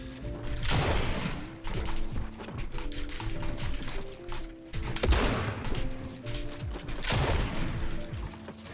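Rapid sprays of gunfire ring out in Fortnite arena play, bursts of quick clattering shots with sharp louder blasts recurring every couple of seconds, close and dense amid game clicks and mechanisms.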